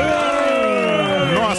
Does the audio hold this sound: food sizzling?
no